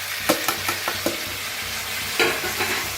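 Ridge gourd pieces sautéing in a hot pan, with a steady sizzle broken by several distinct scraping stirs of a spatula, close and moderately loud with no talking.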